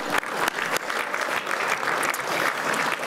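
At the 2016 annual meeting of the China General Chamber of Commerce USA, the audience breaks into a short, loud burst of continuous clapping during an award presentation.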